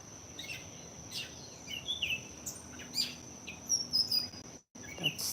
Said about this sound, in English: That's the closest look I can get for this northern mockingbird.